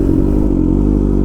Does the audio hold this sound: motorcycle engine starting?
yes